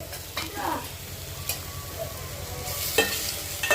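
Onion and tomato sautéing in a pan for crab soup, a steady sizzle with stirring scrapes and occasional utensil knocks, close and continuous with no talk.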